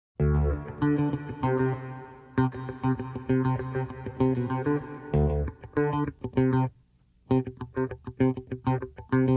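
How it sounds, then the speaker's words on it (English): A repeating bass riff drenched in heavy reverb, notes ringing and washing together as if in a huge hall, with a brief gap near the end. "he plays the first little riff, which is the first 5 seconds here, with quite a lot of reverb on it"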